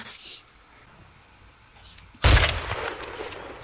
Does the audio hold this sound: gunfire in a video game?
yes